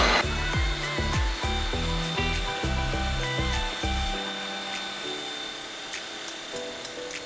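Ninja Creami machine spinning canned pineapple into sorbet: a loud, steady motorized whir with stepped, shifting mechanical tones as the blade works through the frozen fruit, then settling into a more even drone.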